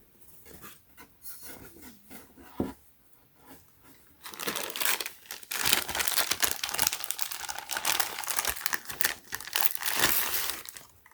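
Crinkling and rustling of the attachment storage bag for a Black+Decker Li-Ion cordless Flex car vacuum, starting sparse and quiet, then turning into a steady run of loud, close crumpling handling noise with no talk.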